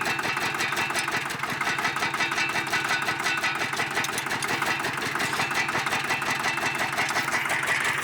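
A tractor engine runs steadily on a farm, giving a continuous loud mechanical chatter with a fast, even rhythm close by and no talk over it.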